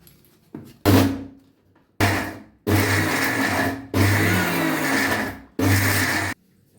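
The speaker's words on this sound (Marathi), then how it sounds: "आपण फिरवून घेऊया मिक्सरला" A kitchen mixer grinder whirs in five loud bursts of roughly one to two seconds each, switched on and off in turn. It is grinding amla chutney with lemon juice, salt and cumin, with no talk.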